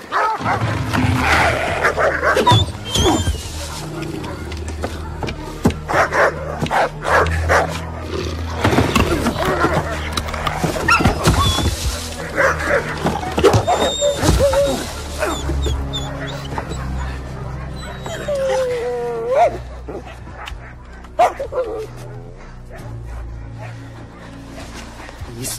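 A dog in a 1990s Yukon wilderness film yelps and whimpers amid a dense, busy movie soundtrack with wild-animal roars and snarls, its cries rising intermittently over a loud, continuous backdrop.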